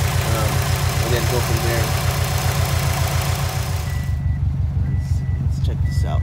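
A car engine idles steadily and loudly with a low rhythmic throb, while someone talks over it briefly and a repeating beep sounds toward the end.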